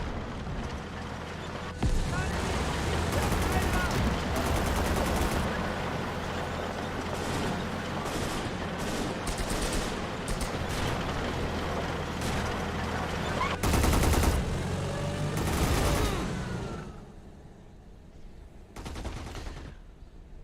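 Battle sounds from the WWII strategy game Gates of Hell: bursts of gunfire and heavy anti-tank gun shots crack over a constant rumble of engines. The din is loud and dense, then thins out toward the end.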